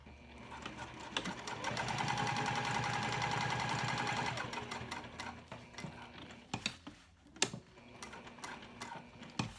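A sewing machine stitches a cork checkbook cover in a fast, even run of needle strokes lasting a few seconds. It then slows, ending in scattered mechanical clicks and thumps.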